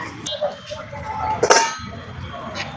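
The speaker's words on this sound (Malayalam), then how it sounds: "അടിയിൽ ചെമ്പ് വരുന്ന പാത്രങ്ങളാണ്" Copper-bottomed metal pots and vessels at a Bengaluru flea market clink and clatter a few times as they are handled, with a sharper cluster of clinks midway, under background crowd chatter.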